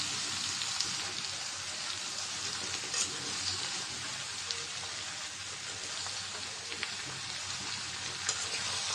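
Raw pumpkin pieces fry in a pan with onion, salt and turmeric, giving a steady, close sizzle with scattered scraping clicks of stirring throughout and no talking.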